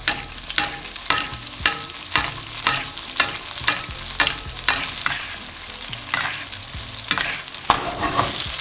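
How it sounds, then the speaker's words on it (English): Salmon fillet basted with sizzling butter in a pan, a steady sizzle broken by regular spoon splashes and scrapes roughly every half second, close and alone. "And you want to baste this with butter just to make sure everything is cooked evenly."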